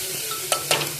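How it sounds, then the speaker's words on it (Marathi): Pumpkin and dal sauté in a covered pan, with a soft sizzle underneath and two brief scraping stirs close by. "भोपळा परतून घ्यायचा थोडंसं झाकण लावून परतते"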